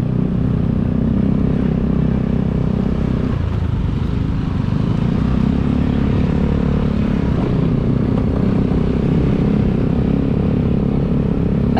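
Motorbikes and traffic pass along a morning street in Pererenan, Bali, a loud, continuous engine drone with shifting revs and clatter, close by.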